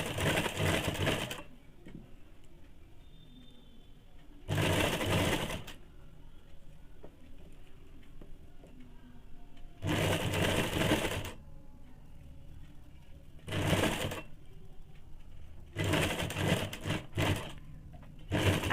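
A sewing machine stitches the side seam of a ladies' muffler scarf in several separate runs of rapid rattling, some longer and some short, with quiet pauses between them.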